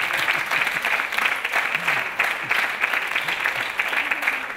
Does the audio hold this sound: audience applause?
yes